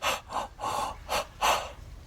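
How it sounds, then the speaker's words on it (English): Ujjayi pranayama breathing hisses from a slightly constricted throat in five close, airy breaths of varying length, each a soft rushing swell with brief quiet gaps between, and no talk. "you're making that sound like Darth Vader, where it's like a hissing sound that's coming from your throat"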